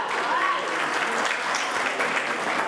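An audience at a sports club's anniversary celebration honouring champion players claps steadily in a dense, even round of applause that fills the hall throughout.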